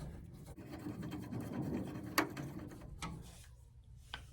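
Screws are snugged into a metal light fixture box with a hand tool, giving a steady low scraping and grinding that builds through the middle, one sharp metallic click, then fainter scrapes with no talk.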